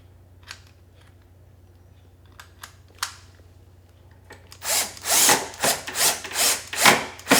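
A drill bores two pilot holes in wood for a workbench caster mount: quiet taps and handling at first, then a loud, close run of pulsing, grinding bursts over the last few seconds.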